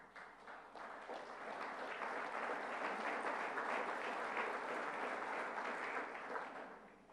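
Applause from a large audience at a business conference colloquium, a dense, even wash of clapping that swells and holds for several seconds before easing slightly, heard alone without speech.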